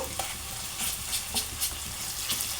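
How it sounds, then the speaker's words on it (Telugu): Ginger garlic paste fries in a pan for a chicken fry, a soft, continuous sizzle with light stirring scrapes, fairly quiet and close. "ఇది కూడా మంచిగా పచ్చివాసన పోయే వరకు వేయించేసుకోవాలి మనము"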